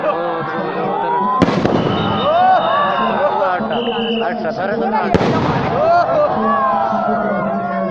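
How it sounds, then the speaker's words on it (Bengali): Fireworks bursting over a countrywide night celebration in Bangladesh marking the Bangabandhu centenary, with two sharp loud blasts followed by dense crackling, whistling streamers and pops, over a continuous crowd hubbub. "আমাদের পুরো বাংলাদেশের সকল উপজেলায় একসাথে আতশবাজি শুরু হয়ে যাচ্ছে"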